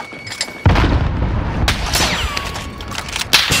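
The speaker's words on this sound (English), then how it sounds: "Sending a frag out." A frag grenade goes off in the Call of Duty Modern Warfare video game, a sharp, loud blast followed by rumbling and scattered gunfire-like cracks, with a high electronic tone briefly sweeping through.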